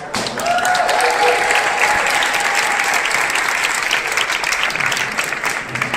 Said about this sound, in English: Let's give her a big round of applause, guys.